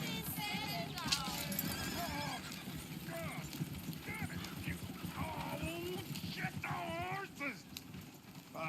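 Horse hooves clip-clop in the video game Red Dead Redemption, with repeated whinnies and neighs over a busy rhythmic trot while voices talk.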